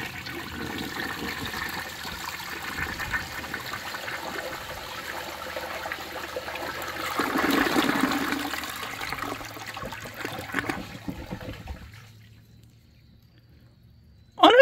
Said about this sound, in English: But I did fill it up close to the water line, so let's get its first flush.